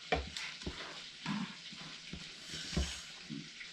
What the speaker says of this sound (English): When your butter is sizzling, you want to let it get just a little bit brown.